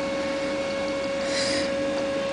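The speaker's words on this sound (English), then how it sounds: "Here's a simple reed switch motor I just made." A small homemade reed switch motor with a magnet rotor and an electromagnet runs steadily, making a continuous whirring hum with a fixed tonal whine and a soft rising hiss near the middle.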